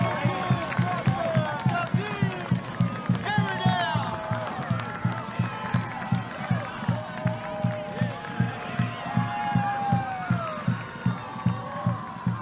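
A stadium crowd cheers and whoops after a Birmingham Legion goal in a U.S. Open Cup match, a broad roar with scattered shouts and clapping, under steady rhythmic drumming and lively commentator speech.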